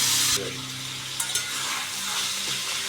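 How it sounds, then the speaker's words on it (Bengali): Chicken pieces rubbed with turmeric and salt fry in an oil-filled pan, sizzling steadily while a spoon stirs them, with a couple of brief scraping clicks against the pan. "দিয়ে একটু ভালো করে চিকেনটাকে ভাজা ভাজা মতো করে নেব"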